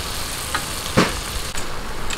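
Crispy chicken intestine skewers (isaw) fry in hot oil while being stirred, a steady close sizzle with a louder crackling splash about halfway through and lighter stirring scrapes.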